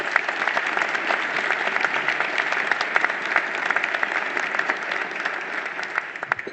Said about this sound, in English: So they deserve a big round of applause for the hard work they do.